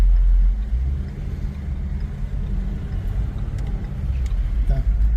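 Ford Mustang with a 5.0-litre V8 gives a deep, steady engine rumble, loudest at the start and again near the end, heard close up while people talk over it.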